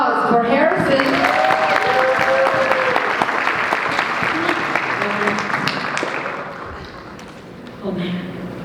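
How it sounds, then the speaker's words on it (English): An audience claps for a performer named Harrison at a showcase event, the applause mixed with crowd noise and a voice talking over it before fading toward the end. "Round of applause for Harrison."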